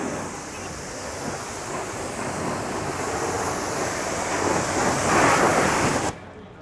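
A hose sprays water onto the cover of a Mercedes car, making a steady broadband hiss that swells slightly before cutting off abruptly near the end, with no voices.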